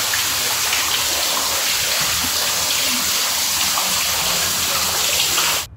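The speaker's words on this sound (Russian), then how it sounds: "С каждой стены здесь льет капель или целый водопад." Water drips and pours down the walls of an old, damp building, forming a continuous, fairly loud hiss of running and splashing water with no other sounds standing out.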